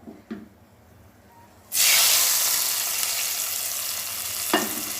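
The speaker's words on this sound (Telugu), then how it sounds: "ఇప్పుడు తాలింపు వేస్తాను" A tempering poured into a pan for masala gongura curry bursts into a loud, sudden sizzle after a couple of quiet knocks, then keeps hissing steadily, close by, with a faint tap near the end.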